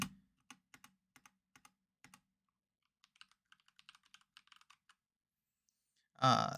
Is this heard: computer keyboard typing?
yes